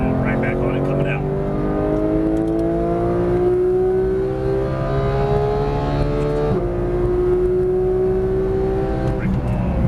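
A 2015 Porsche 911 GT3 accelerates out of a turn at Las Vegas Motor Speedway, its engine note climbing steadily through the revs, with a brief dip at a gear change before pulling hard again, loud and close from inside the car.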